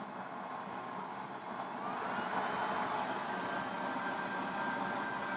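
Electric blower of a used-oil stove, drawing 1.2 amps, whirring steadily on a speed controller, its airy hum stepping up in speed and pitch partway through, then holding a constant whine, nearby and without voices.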